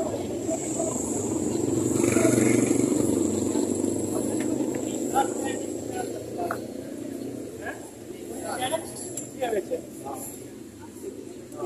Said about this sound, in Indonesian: Motor di Malaysia seperti gini,